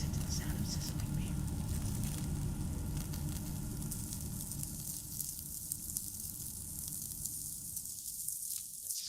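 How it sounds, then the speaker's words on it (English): Wagyu beef sizzles at a Japanese lunch, a loud, continuous, crackling hiss that holds steady close by, with a low rumble underneath. "let's just listen to the sound of sizzling beef."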